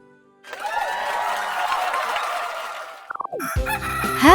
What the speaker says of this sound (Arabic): هذا ديك.